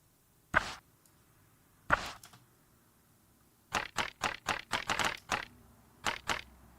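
Razer Huntsman keyboard being typed on, two isolated sharp clacks followed by a quick run of about eight crisp key strikes, then two more, close and clean against a quiet background.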